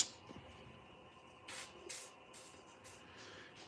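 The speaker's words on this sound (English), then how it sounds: "What do I have for lubrication around here? WD-40, that'll work." WD-40 spray lubricant hisses onto the parts of a Stihl 08S chainsaw. Several short, faint spray bursts come a fraction of a second apart against a quiet workshop background.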